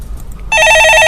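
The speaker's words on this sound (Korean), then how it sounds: "네, 전화 받아보겠습니다." Telephone ringing in a broadcast studio during a stock-market call-in show, an electronic trilling ring that starts abruptly halfway through and continues loud and close, after faint background noise.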